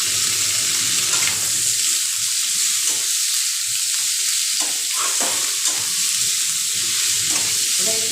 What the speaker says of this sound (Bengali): এটাকে ভাজা করে নেব